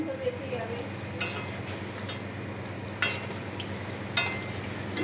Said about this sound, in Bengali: ঝোলটা ফুটিয়ে নিলাম গ্যাসটা কমিয়ে ঝোলটা একটু ফুটতে দেবো